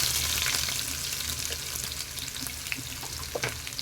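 Sliced large onions fry in hot oil in a pan, a steady close sizzle with faint stirring scrapes, no voices.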